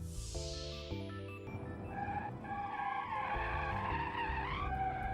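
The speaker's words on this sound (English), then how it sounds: "It was a nice handbrake skid." An electric Covet car in the driving game BeamNG skids through a handbrake turn, the tires squealing in wavering, rising screeches over a tonal electric motor whine.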